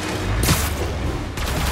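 Two bursts of gunfire crack out during a high-speed chase in Spider-Man Remastered, a loud volley early on and another near the end, over a constant rumbling game background.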